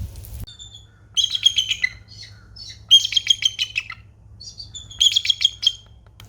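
Birds in an outdoor bird garden sing three bright, trilling bursts of chirps separated by short pauses, clear and fairly close over a low background hum, with no talking.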